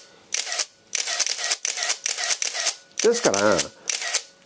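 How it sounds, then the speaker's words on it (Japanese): A Nikon Zf camera fires its shutter from a motor drive button, a rapid burst of mechanical clicks partway through, heard under someone speaking Japanese. "モータードライブのボタンでもシャッター切れます"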